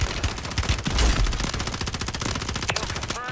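Fast bursts of automatic gunfire in Warzone 3, loud and close, with rapid shots running through the whole stretch.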